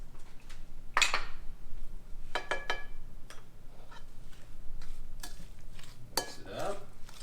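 Vegan cowboy cookie dough being mixed in a bowl: a few quiet scrapes and knocks of a utensil against the bowl, spaced out, with a short cluster of quick taps, over a faint low background hum.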